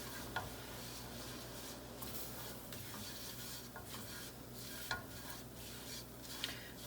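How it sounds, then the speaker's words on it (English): Flour being stirred into hot fat in a pan to form a roux for a chicken cordon bleu pasta sauce, a steady soft scraping and faint sizzle with a few sharper ticks of the utensil against the pan. "I'm going to make what's known as a roux. So I'm going to add flour in here."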